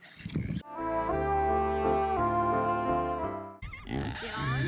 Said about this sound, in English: These are our five pigs.